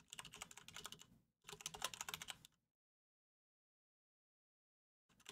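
Rapid typing on a computer keyboard comes in two dense bursts of close, crisp key clicks, then drops into silence before resuming at the end.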